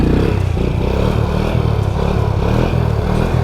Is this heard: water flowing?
no